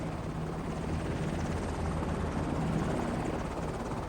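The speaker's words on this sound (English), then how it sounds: "The Squirrel AS-350 helicopter being used for this project on loan from Lao Airlines" A Squirrel AS-350 helicopter flies overhead with a steady, loud rotor thrum and engine whine that holds constant throughout.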